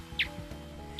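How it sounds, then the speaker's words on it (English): A bat's echolocation call in flight, slowed down and electronically enhanced, comes through as two short, bright chirps about a second apart over a low steady hum. "That chirping noise you hear is the slowed down, electronically enhanced call of an echolocating bat in flight."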